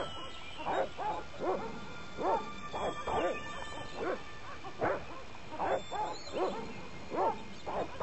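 Dogs in the Broken Sword: Shadow of the Templars video game bark repeatedly in a regular rhythm, a string of mid-loud, slightly yelping barks roughly every half second over a steady background hum.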